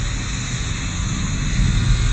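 Airplane in the Roblox game Pilot Training Flight Simulator, a steady loud engine roar with broad hiss holding constant throughout, no talking.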